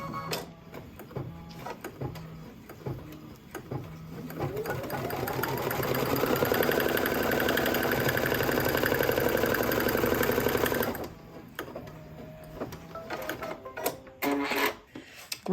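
An embroidery machine stitches a square on tearaway stabilizer, starting with a few short whirs, then running loud and steady in a fast rhythmic chatter for several seconds before stopping, followed by scattered clicks and handling noises.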